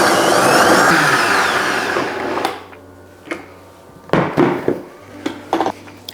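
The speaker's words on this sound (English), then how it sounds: "I'm gonna throw this on the blender first before we add in the melted chocolate" A blender whirs loudly as it blends a cocoa powder mixture with a dash of salt, running for about two and a half seconds before stopping. A few scattered knocks and clinks follow in the quieter stretch.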